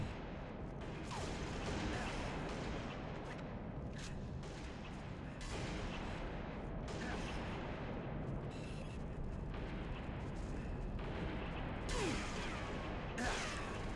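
Gunfire and explosions from the multiplayer video game Halo: Reach, a dense continuous battle soundscape with repeated shots and blasts layered over constant low rumble throughout.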